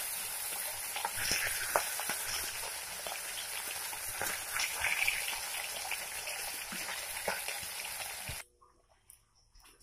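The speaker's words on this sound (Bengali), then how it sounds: "বাকি মাছগুলো আমি ভেজে নেব।" Katla fish frying in hot oil in a wok gives a steady, loud sizzle with crackling spatters for about eight seconds, then cuts off abruptly into near silence; no one speaks.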